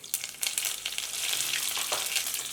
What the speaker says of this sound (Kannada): ಎಣ್ಣೆ ಕಾಯಿಲಿ ಸಾಸಿವೆ ಹಾಕ್ಕೊಳ್ಳೋಣ